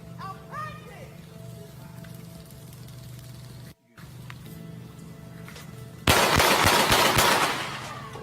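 A police officer fires a gun in footage from a Baytown Police Department shooting. After several seconds of steady background hum and faint sounds, a sudden loud burst of rapid shots lasts about a second and a half, then fades.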